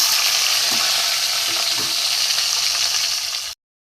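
Chopped raw tomato goes into hot spice tempering with grated ginger for a potol aloo kaliya, and the pan gives a loud, steady, close sizzle with light stirring that runs unbroken before cutting off abruptly.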